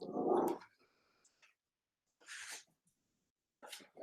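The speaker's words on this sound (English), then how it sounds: "the dog heard something, she's growling." A dog at home gives a low rough rumble followed by two short, quieter snorting bursts separated by silence, close to the microphone.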